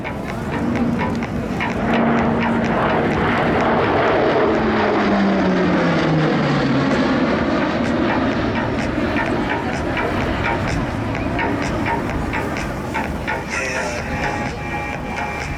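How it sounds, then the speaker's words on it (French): A Northrop-Grumman E-2C Hawkeye, a twin-turboprop naval aircraft of the French Navy, flies past at an air show, its loud propeller drone dropping in pitch as it goes by, then a broad sustained engine roar that stays close. "Alors que l'E2C Hawkeye revient juste en face de vous"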